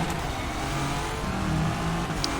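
A Nissan GT-R LM race car engine roars steadily at high revs on the Nordschleife, a loud continuous mechanical drone with a faint higher whine near the end.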